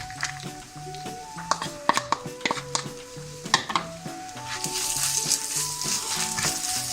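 Grated coconut stirred and sautéed with red chillies in a pan, with soft sizzling frying and repeated scrapes and taps of a spoon against the pan, the sizzle growing fuller toward the end.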